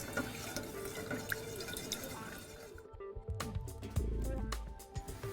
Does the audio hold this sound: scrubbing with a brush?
no